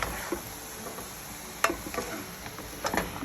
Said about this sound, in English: So I'm gonna give this a stir.